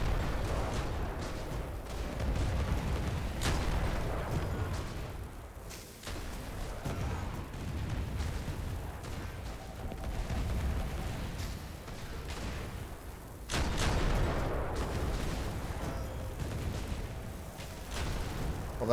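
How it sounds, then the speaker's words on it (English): Imperial cannon fire in Airships: Conquer the Skies: a continuous din of booming cannon shots and rumbling blasts, with a louder burst of fire partway through. "Yeah, those Imperial cannon are dangerous."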